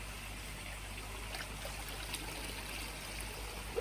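Pond filter media being dipped up and down in water, giving a soft continuous trickling and sloshing close by, faint and steady with no talking.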